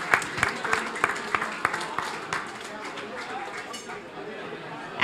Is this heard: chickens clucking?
no